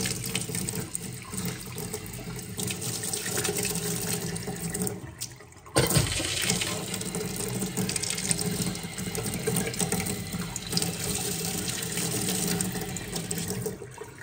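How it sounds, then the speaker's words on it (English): Water runs steadily from a Woodford outdoor hose faucet after the supply is turned back on, a continuous close hiss and splash with a brief dip around the middle before the flow resumes strongly. "Alright, water's back on."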